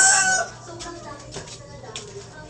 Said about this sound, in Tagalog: Madaming mga manok.